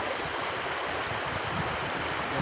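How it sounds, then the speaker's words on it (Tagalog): A strong river current rushing steadily, a dense broadband roar of flowing water heard close and unbroken throughout, with no other sounds. "Lakas ng agos ng ilog."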